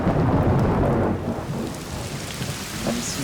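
Heavy rain pours down steadily outdoors in Thailand while a deep rumble of thunder rolls underneath, loud and continuous throughout.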